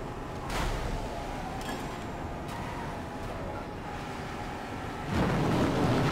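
Thunderstorm in the video game Mad Max, a low continuous rumble with rain-like noise and a few sharp cracks, swelling into a louder roll near the end.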